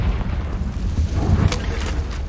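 A Confringo blasting spell explodes in the Hogwarts Legacy video game: a deep, continuous booming rumble with a sharper crackling burst partway through, loud and close.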